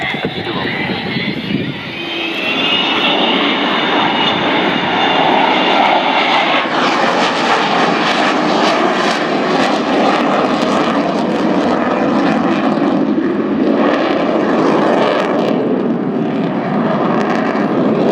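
An Avro Vulcan bomber flies past with its wheels down at an air day display, its loud, sustained engine roar filling the whole stretch and swelling and shifting in tone as it passes.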